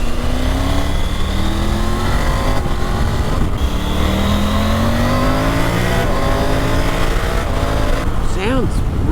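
A Triumph Tiger 900 Rally Pro with a changed firing order revs and accelerates close by, its engine grunty and guttural, rising through gears under constant wind roar while a rider talks over it.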